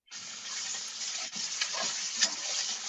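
Collard greens sauté in a pan, crackling steadily up close while a utensil stirs them in short, uneven pushes.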